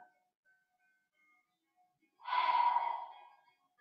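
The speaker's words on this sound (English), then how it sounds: "Okay, one more breath." A deep breath taken during a seated chair exercise routine, audible as a single soft breathy swell lasting just over a second after a quiet pause, alone with no talk.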